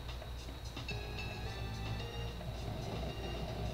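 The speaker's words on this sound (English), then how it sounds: "Let's take this train." Steady rumbling train ride in the Pokémon Diamond video game, a continuous low mechanical drone with faint higher tones running throughout, no talking.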